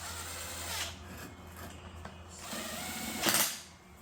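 A power tool lightly tightening the bolts on a Chevrolet Silverado thermostat housing, giving short whirring and rattling bursts with pauses between them at close range, the last burst louder and higher.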